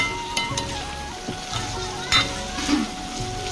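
Vegetables sizzle in a hot pan while a utensil stirs them, with a few scraping knocks against the pan, close and moderately loud.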